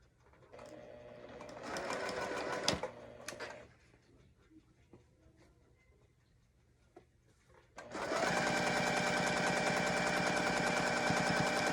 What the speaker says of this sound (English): I'm going to go back to the sewing machine